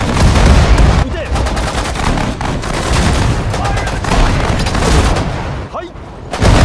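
Continuous dense gunfire and rifle shots in the World War II strategy game Sudden Strike 4, Pacific War Japanese campaign, loud and sustained with overlapping bursts and short gaps, under brief spoken unit commands.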